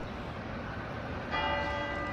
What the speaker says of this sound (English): You can hear from here the bell from Saint-Étienne-du-Mont.